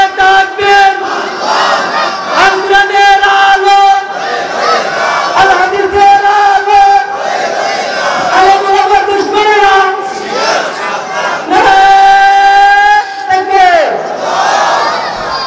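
A large crowd at an Islamic sermon gathering in Bangladesh loudly chanting in unison in answer to a takbir call, repeated rhythmic shouted phrases rising and falling, close and strong throughout.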